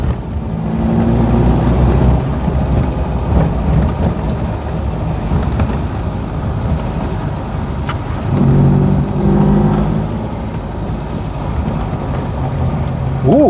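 A 1999 Reliant Robin's small engine drones steadily from inside the car as it drives, a continuous low rumble with slight swells in pitch, with someone talking over it.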